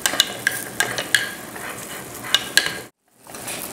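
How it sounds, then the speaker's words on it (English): A lip balm mixture melting on a hot stove is stirred, with a utensil clinking and ticking against the container over a light sizzle, close up, before a sudden brief silence and then quiet resumption. "Every minute or so, you should stir the mixture to make sure it melts completely."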